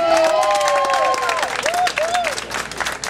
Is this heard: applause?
yes